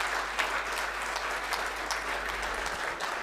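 Audience applause at an international management conference as a chief guest is honored, steady dense clapping from a crowd filling the hall at moderate distance.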